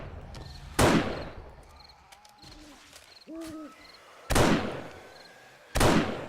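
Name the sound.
sniper rifle shots in 7 Days to Die video game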